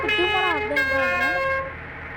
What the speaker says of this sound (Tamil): நானா ஹார்ன் அடிச்சு பார்த்துட்டே தான் இருக்கேன்